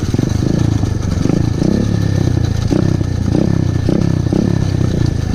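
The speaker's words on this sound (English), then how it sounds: "Dude, your bike is so loud." A pit bike engine revs loudly out in the hills, a close, throaty rasp that surges and falls in repeated throttle bursts with no pause.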